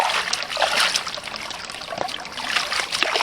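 Giant taro corms rinsed under running water to wash off clinging soil, a steady close trickle and splash with bright hiss throughout, no talking.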